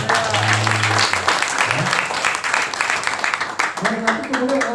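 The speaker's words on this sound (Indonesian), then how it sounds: "Kasih tepuk tangan buat Tuhan." Congregation clapping at a 2022 Christmas church service, sustained applause with a preacher's voice and brief vocal sounds over it.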